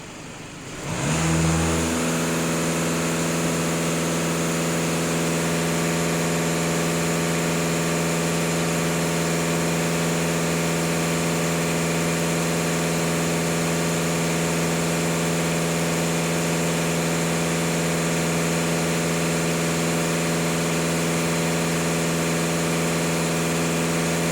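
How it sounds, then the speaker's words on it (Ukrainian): A VW Passat 2.0 TDI diesel engine rises from idle and is held steady at about 2500 rpm, a constant droning hum with strong steady tones that runs unbroken, close and alone. "Даю газ пол на 2500 обертів."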